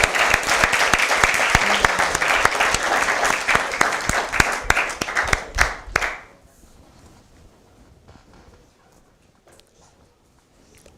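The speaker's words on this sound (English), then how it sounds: "But everybody give a clap your hands for Coach Lowe." Loud crowd applause with dense, rapid clapping for about six seconds, then it abruptly dies away into quiet room tone.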